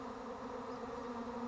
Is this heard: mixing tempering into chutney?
no